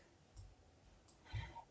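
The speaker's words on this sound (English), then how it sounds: "I'm going to click on my shift key on my keyboard and I'm going to click." A computer mouse gives two soft, brief clicks about a second apart, faint against a quiet room.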